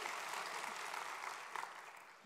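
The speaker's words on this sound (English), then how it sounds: "Please, round of applause." Conference audience applauding a moderator at a finance association annual meeting panel, a steady, fairly faint wash of clapping throughout the short stretch.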